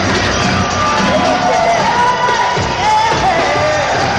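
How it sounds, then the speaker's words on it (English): A New Jersey boxing arena crowd cheering and shouting for heavyweight Ray Mercer, a dense, steady roar of voices with whoops rising above it, close and loud throughout. "Ray Mercer should get quite a reaction from this New Jersey crowd"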